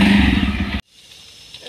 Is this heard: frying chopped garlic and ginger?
no